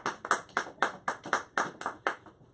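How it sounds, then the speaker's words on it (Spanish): A church congregation clapping for the Lord during a sermon, a quick rhythmic run of roughly a dozen crisp claps in an uneven beat, moderately faint and without any talking. "¿Cuántos aplauden al Señor?"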